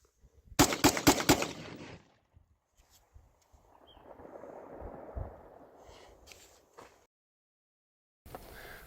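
A Combat Armory CA19 rifle fires a rapid string of about seven close, loud shots emptying a magazine, followed by quieter handling noise and another loud burst at the end.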